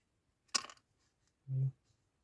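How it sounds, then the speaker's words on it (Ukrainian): A bottle of leather glue being opened, with a brief close click of the cap followed by a short soft squeak, otherwise quiet. "Я відкриваю клей."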